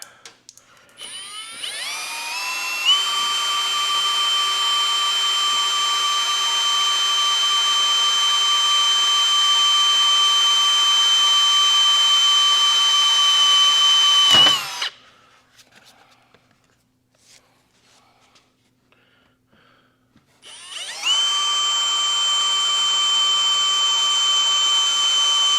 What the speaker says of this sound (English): I'm going to take the cutoff saw